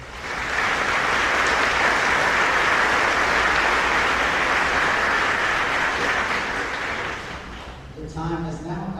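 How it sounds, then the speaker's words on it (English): A graduation ceremony crowd bursts into loud, sustained applause that holds steady for about seven seconds before tapering off, then a voice begins speaking over the fading claps. "Let's give all the people who have supported you a round of applause."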